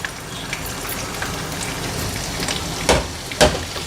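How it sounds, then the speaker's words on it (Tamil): Ginger fries in a mix of hot ghee and oil, giving a crackling, rain-like patter with a few sharper spitting pops near the end, heard close with no talking. "எண்ணெயும் நெய்யும் சூடானதும் நம்ம இஞ்சியே சேர்த்துக்கலாம்."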